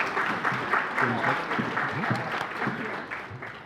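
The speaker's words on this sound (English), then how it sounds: "Round of applause." An audience at a county hall of fame gala applauds as someone is welcomed to the stage; clapping with cheering voices mixed in, moderately loud and fading slightly toward the end.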